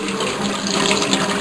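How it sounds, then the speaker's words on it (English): Fresh well water gushes steadily from a tap after a newly installed pump, a loud continuous rushing stream with no voices. "Fresh well water"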